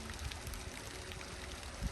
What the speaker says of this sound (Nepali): पर पानी झर्नबाट पानी आउँछ है